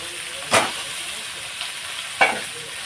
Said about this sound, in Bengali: তেলে একটু নেড়ে চড়ে এই যে সবজিগুলো দিয়ে দেবো